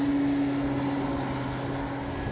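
An E-flite Carbon Z T-28 RC plane flies over a grass field, its electric motor a steady droning hum with a faint whine, continuous and fairly loud without voices.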